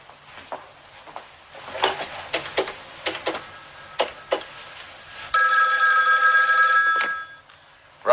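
Old-fashioned telephone bell ringing loud and steady for about two seconds in a museum security office, after a stretch of clicks and taps.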